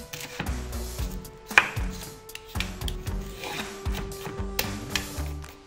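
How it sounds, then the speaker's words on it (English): Vegetables chopped on a cutting board for a ramen dish: a steady series of close knife strikes in an uneven rhythm, with no talk. "Prep all your vegetables."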